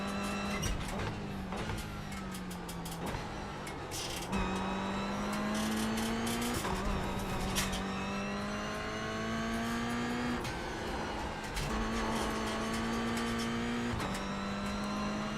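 A Mazda MX-5 race car laps Lime Rock Park, its engine loud and close as it climbs through the revs again and again, with sharp drops at each gear change.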